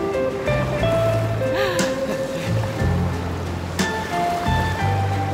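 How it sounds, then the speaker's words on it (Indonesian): Surf washes in continuously at a beach in Hulhumale, Maldives, a steady broadband rush of waves breaking close by with no pause over the few seconds. "Ada ombaknya tuh belakang gua."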